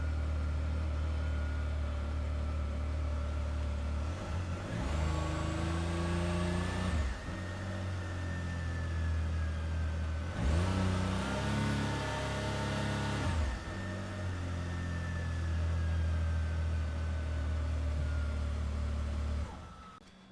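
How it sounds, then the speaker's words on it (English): A Can-Am Maverick R engine revved up slowly from idle in two long swells, each a rising and falling throaty drone over a steady fan-like whir, close and moderately loud, with no talking. "And then I'm going to slowly rev the vehicle up and let him feel for a change in fan speed."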